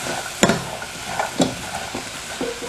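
Beef pieces for a slow cooker stew sizzle in a frying pan as they brown, the steady hiss broken by repeated close scraping stirs.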